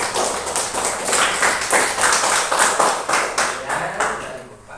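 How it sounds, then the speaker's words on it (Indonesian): A classroom group of students claps together in steady, dense applause that swells and then tapers off over a few seconds, with no talking over it. "Tepuk tangan untuk kita hari ini."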